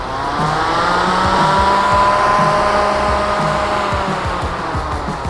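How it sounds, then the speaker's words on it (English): A Super Vac battery-powered fan runs at steady power, giving a loud, constant whirring roar with a faint repeating ticking underneath, no voices present. "Go ahead and turn your fan on."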